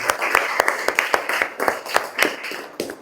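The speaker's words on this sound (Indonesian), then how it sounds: "kita berikan tepuk tangan untuk teman kita" A classroom of pupils in an Islamic religious lesson claps together for a classmate in a quick, rhythmic patterned beat of sharp, close claps.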